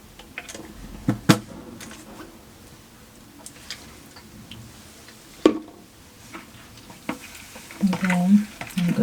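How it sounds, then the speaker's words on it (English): A spoon stirs honey into pineapple mint juice, giving soft swishing with occasional light clinks against the container. The sound is quiet and intermittent, with a few sharper taps and some low background noise. "Then I'm going to stir until everything is mixed up together well."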